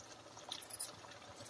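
Tamarind water poured into a cooking pot of mixed vegetable stew, a faint, soft liquid trickle lasting a moment.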